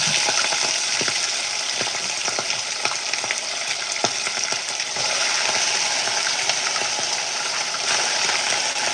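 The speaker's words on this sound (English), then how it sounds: "I'll just wait to fry the first batch because we need the oil in there." Turkey pieces fry in hot oil over a gas flame, a continuous close sizzle and crackle with scattered sharp pops and occasional scraping or stirring clicks, with no one talking.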